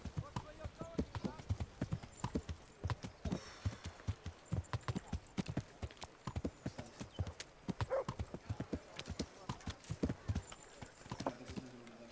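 Steady hoofbeats of a horse in Kingdom Come: Deliverance clip-clop at a walking pace, close by, with a voice talking over them now and then.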